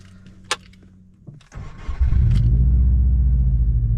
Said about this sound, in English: let's do a quick start up, get this car ready to boogie